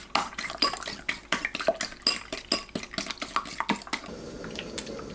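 Three eggs whisked with salt, sugar, milk and pepper in a bowl: quick, close, rhythmic clinking and sloshing that runs for about four seconds, then stops.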